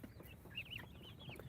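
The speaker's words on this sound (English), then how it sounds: "a whole bunch of more chicks" Baby chicks cheep in high, thin peeps, a few quick chirps rising and falling faintly over low background noise, with no voices present.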